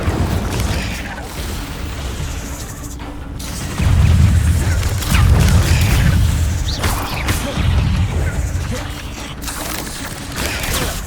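Spell-casting combat in Hogwarts Legacy: repeated bursts, crackles and booming impacts layered over a busy battle ambience, with a few louder surges mid-clip.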